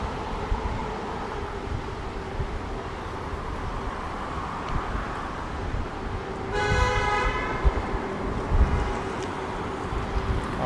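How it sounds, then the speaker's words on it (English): On a rainy North York street near Yonge and Sheppard in Toronto, a car horn gives one short honk at a Mercedes turning right from the center lane, rising above steady traffic and wind noise. "that Mercedes turned right from the center lane. That's why they got honked at."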